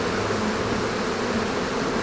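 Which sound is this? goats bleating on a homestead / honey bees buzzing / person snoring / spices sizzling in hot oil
honey bees buzzing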